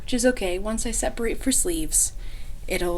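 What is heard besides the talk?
No distinct noise like a dog, phone or traffic.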